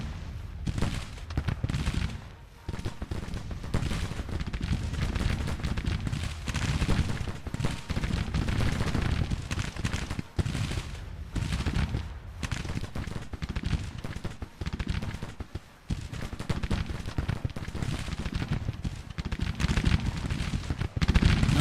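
Civil War musket gunfire in the strategy video game Grand Tactician, sustained volleys of crackling rifle shots rolling together at a distance in a continuous loud battle din.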